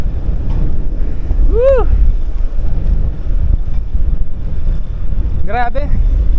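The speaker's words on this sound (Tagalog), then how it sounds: "Ang lakas ng hangin, sobra." Strong wind buffets the microphone during a long road bike ride through a mountain pass, a loud continuous low rumble and roar, with short whooping shouts from a rider over it.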